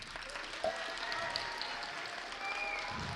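Audience applauding a student at a school pleading contest final, continuous moderate clapping with a muffled room murmur, fairly distant and even throughout.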